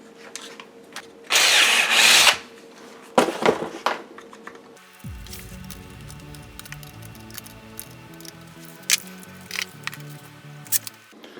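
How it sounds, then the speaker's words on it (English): A power drill whirs in a couple of short bursts, followed by quieter handling sounds and faint clicks. "so I'm going to drill a little hole here"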